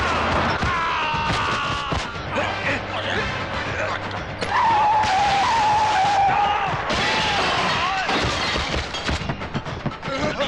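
Car tires skid and an engine revs through a movie chase scene, with loud squeals and dense action noise throughout and voices shouting over it; a sustained squeal cuts in near the middle.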